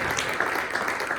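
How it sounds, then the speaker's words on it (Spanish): A church congregation claps steadily together, a brief dense patter of many hands filling the room at moderate loudness. "Denle palmas al Señor."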